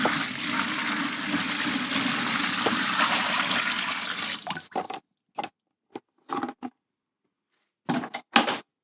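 About five litres of water gush from a bucket into a tub in a steady rushing pour lasting several seconds, then stop abruptly, followed by a few short clunks and scraping handling sounds.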